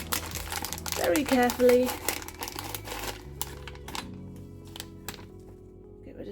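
Double-bagged plastic pouch of matcha powder sealed with sticky tape, crinkling close up in bursts as it is pulled open, mixed with speech and a brief tonal sound.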